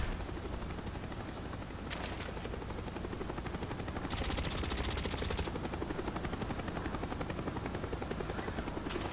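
Cobra attack helicopter killstreak in Call of Duty: Black Ops on Nuketown, hardcore capture the flag: a steady loud rotor drone fills the whole stretch, with bursts of rapid gunfire layered over it.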